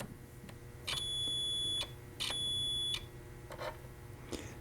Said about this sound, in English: the beep indicates that each one of those fuses is good